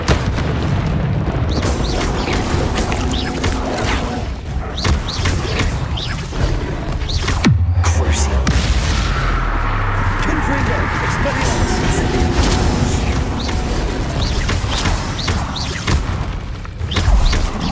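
Spell combat in the video game Hogwarts Legacy, with Confringo explosions booming and crashing over a dense, loud layer of game effects, while a voice repeatedly calls out spell names throughout.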